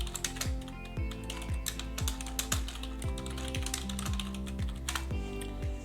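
Fingers type on a computer keyboard in a steady stream of close, light key clicks, with occasional heavier taps mixed in and no talk over them.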